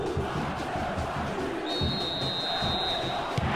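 Video game stadium crowd in a São Paulo match in Bomba Patch 82 on PS2, a steady dense roar of cheering and chanting throughout as the stadium sound system announces attendance, with a brief whistle-like tone partway through.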